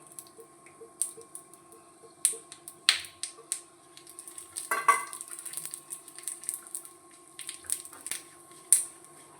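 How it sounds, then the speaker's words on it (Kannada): Sesame seeds and peanuts sputter in hot oil in a home kitchen pan, giving a steady scatter of sharp little pops and crackles, close and fairly quiet, with no voices. "ಎಳ್ಳು ಪಟ ಪಟ ಸಿಡಿಲಿಕ್ಕೆ ಸುರಾಯಿತು"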